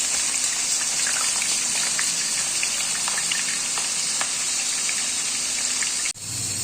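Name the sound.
onion frying in oil in a wok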